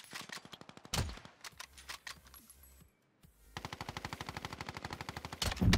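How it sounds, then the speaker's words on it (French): Automatic gunfire off to the left in an online shooter video game, rapid bursts of evenly spaced shots with a short gap between volleys, fairly near and clear with no talking. "il y a des tirs vers la gauche"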